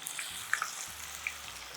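Curry leaves sprinkled with a little salt fry in a pan, giving a faint, steady sizzling hiss with a few tiny pops and crackles over a short moment.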